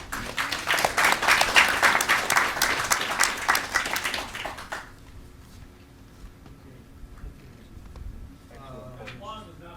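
Applause from the audience at a school board public comment session: a loud burst of clapping for about five seconds that cuts off abruptly, followed by quiet room tone and a voice speaking.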